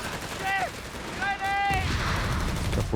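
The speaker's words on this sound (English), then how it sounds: "A couple of grenades being exchanged all around." Grenades and gunfire crackle in Company of Heroes 3 during a 1v1 match, with rapid bursts building into a dense rattle in the second half, mixed with tonal voice-like calls early on.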